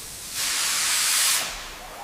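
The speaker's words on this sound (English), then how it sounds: "Steam rises." Steam bursts from a restored red steam locomotive with a loud, broad hiss. It swells up suddenly, holds for about a second, then fades back to a quiet low rumble.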